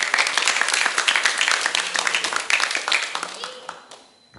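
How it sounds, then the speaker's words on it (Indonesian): An audience at an elementary school storytelling event in Gunungsitoli claps with distinct, crisp hand claps in a lively round that thins out and fades to near silence over the last second. "Mari kita sambut dengan tepuk tangan yang meriah."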